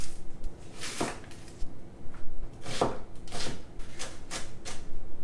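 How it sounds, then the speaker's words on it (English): Knife strokes on a cutting board while onions are diced finely for a stuffed pork loin recipe, a few scattered, moderately loud chops with pauses between them. "I'm just going to cut these up into a fine dice"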